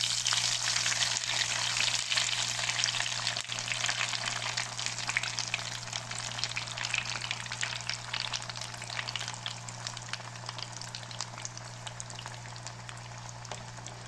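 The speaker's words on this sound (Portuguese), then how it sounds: "Agora eu vou levar para fritar." Pastelão pieces, already breaded, fry in hot oil with a steady, dense crackling sizzle that holds for the whole stretch and fades only slightly toward the end, with no voices over it.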